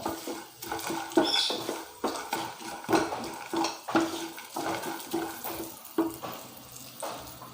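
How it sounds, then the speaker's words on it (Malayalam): Peanuts being mixed into masala puffed rice in a bowl, giving a run of light rustling scrapes and soft clinks in a steady stirring rhythm, close and moderately loud with no talk. "ഇനി അതൊന്ന് നന്നായി മിക്സ് ചെയ്ത് കൊടുക്കാം"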